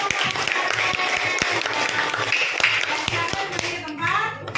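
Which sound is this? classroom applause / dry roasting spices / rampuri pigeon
classroom applause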